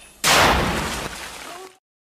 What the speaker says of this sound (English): booby-trapped hand grenades that have a fuse that explodes instantaneously